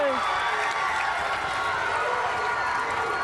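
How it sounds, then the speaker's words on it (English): Baseball crowd at a state championship game roars and cheers, a loud, sustained wash of voices and some clapping filling the whole moment. "can hear the crowd roaring,"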